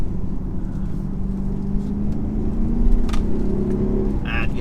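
A 2017 Audi SQ7 engine accelerates from inside the cabin, a steady rising drone with road rumble underneath that swells slightly midway, with no talking.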